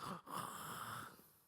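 A preacher's voice imitates snoring during an Indonesian church sermon, a single drawn-out, rasping wheezy breath with a brief gap, loud and close, with no words.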